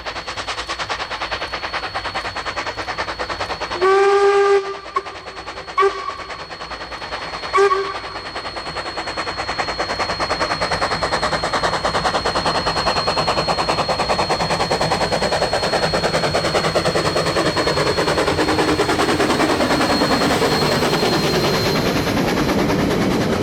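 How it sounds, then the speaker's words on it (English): F163, a steam locomotive leaving the yard at Palmerston North near Milson Junction in April 2019, sounds a few short whistle blasts, then its exhaust builds into a steady, loud working roar as it climbs away. "F163 is seen climbing away from the yard at Palmerston North at Milson Junction"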